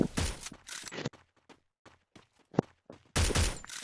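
Bursts of gunfire from a shooting video game, with loud rapid volleys at the start and end and shorter scattered shots and clicks between them, with no talking.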